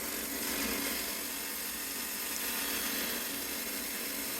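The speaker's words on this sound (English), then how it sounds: "let the trim saw do the work, and it just cut right through it" An old trim saw cuts through hard turquoise stone, a steady, loud, continuous broadband grinding whine that holds evenly throughout with no pauses or voices.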